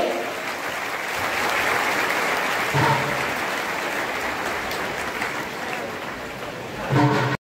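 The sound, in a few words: audience applause at award ceremony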